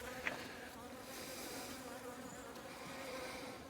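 Honey bees buzz inside an opened hive, a soft continuous drone from many insects that holds steady and fairly faint throughout, with a single small tap near the start and no talking.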